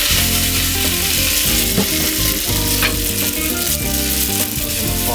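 Steady, loud frying sizzle in a pot of curry shrimp as pasta goes in, with a constant crackle and a few faint stirring clinks, no voices.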